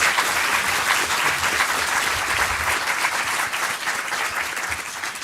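An audience at a conference panel gives a warm round of applause, a full, continuous clatter of many hands that holds strong and tapers only slightly at the end.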